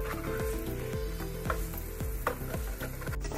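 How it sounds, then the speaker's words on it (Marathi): Vegetable cutlets fry on a medium flame, a close, steady sizzle and crackle of oil with repeated soft scraping of a spatula turning them in the pan. "10 मिनिटां खातीर तरी कटलेटी ह्यो भाजून मिडियम फ्लेमीचेर दवरपाक जाय।"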